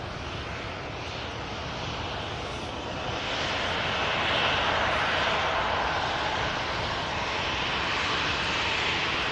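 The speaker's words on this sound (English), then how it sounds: "Aircraft, as I mentioned before, coming in from Tirana." A passenger aircraft, inbound from Tirana, arrives at Manchester Airport with a broad, loud engine roar that swells and holds steady throughout.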